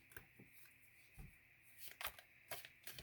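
Soft riffling and slapping of tarot cards being shuffled, close but quiet, in irregular bursts over a faint background hum.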